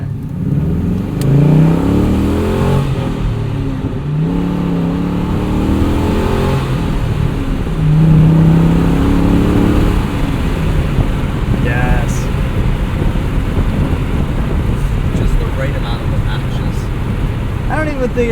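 A 2004 Pontiac GTO engine pulls and revs under acceleration, heard from inside the car as a steady loud drone with road noise, while someone talks over it.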